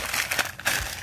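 Fancy wrapping paper crinkling and crumpling as a vintage auction item is unwrapped, a close, uneven run of rustles over about a second with no talk.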